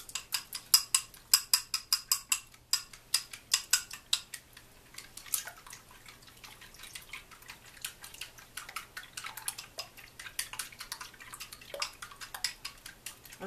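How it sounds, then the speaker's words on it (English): Eggs whisked with chopsticks in a bowl for omurice, a fast run of sharp, evenly spaced clicks and taps close up, steady at first and then looser and softer, with no talking. "I like to use chopsticks to scramble my eggs"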